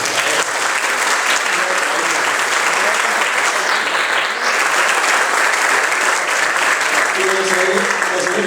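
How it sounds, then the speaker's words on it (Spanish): Sustained, loud applause from an audience at a book presentation, filling the space evenly for several seconds with faint voices mixed in beneath the clapping. "Un aplauso para esta gente del Trasnocho"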